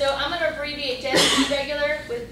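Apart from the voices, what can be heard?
sneeze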